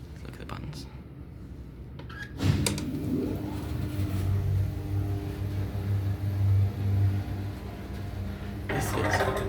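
A vintage Waygood-Otis gated traction lift runs at 143 Charlotte Street, with a clunk as it starts and then a steady low motor hum and rumble, plus a few rattles near the end.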